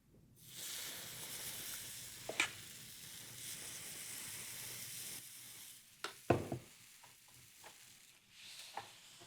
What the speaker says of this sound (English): Into our hot waffle maker, no butter, no lube